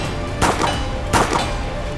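Two loud, sharp reports from a Cottonmouth revolver firing .38 cartridges, spaced less than a second apart, each a bright crack with a short ringing tail over steady outdoor background noise.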